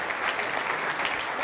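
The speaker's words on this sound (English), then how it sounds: "Give a round of applause." Audience at a property investors' meeting applauds for a steady, dense second and a half, a continuous wash of clapping from a packed room with no voices standing out.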